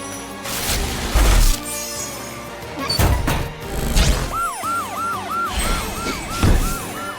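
A wailing police car siren with a rapid rising-and-falling pattern cuts through busy, loud cartoon music and crashing effects, cycling several times near the end.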